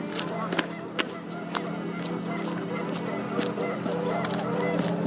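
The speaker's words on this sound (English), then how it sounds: "More honkin' geese." A flock of geese honking repeatedly in overlapping calls, some near and loud, others farther off, over a low steady hum.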